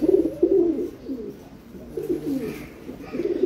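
A pair of Giribaz pigeons coo in low, rolling phrases that repeat several times close by, the soft throaty calls swelling and fading without any talk.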